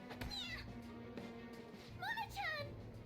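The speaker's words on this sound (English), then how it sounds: "Goddamn cat!" A cat meowing in the video game Persona 5 Royal, two or three rising, wavering cries close up, the last pair loudest, over a low steady game hum with a brief voice near the start.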